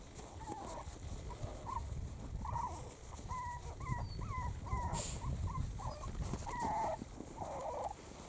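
Six-week-old puppies romp and bound through snow outdoors, giving repeated short yips and squeaky whines scattered over a steady background rustle and hiss.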